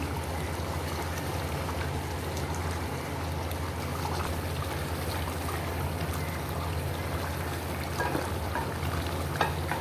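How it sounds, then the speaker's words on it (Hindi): Karahi gosht masala frying over medium heat, a steady dense crackle and sizzle running evenly from start to finish at close range, with no voices. "हम इसे और भूनेंगे इसी तरह मीडियम आंच पे हम रख के इसे"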